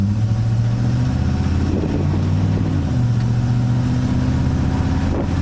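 Steady engine hum of a car running on a transmission hose used as a fuel line, droning continuously at close range with a low, even tone and slight shifts in pitch, no voices.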